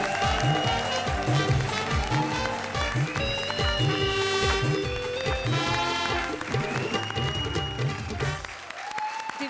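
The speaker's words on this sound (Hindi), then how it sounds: "जोरदार तालियां मनीष और राजीव के लिए, प्लीज।" Studio audience on a Hindi TV comedy show claps loudly and continuously for several seconds, a dense sustained burst of applause with music playing underneath.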